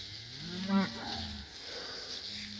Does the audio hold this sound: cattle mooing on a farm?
yes